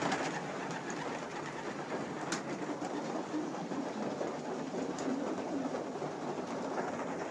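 Pigeons feeding inside the largest section of a loft give soft, steady murmuring and faint cooing under a constant hum, with a couple of sharp clicks.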